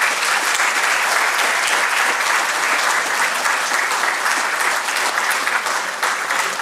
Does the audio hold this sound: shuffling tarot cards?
no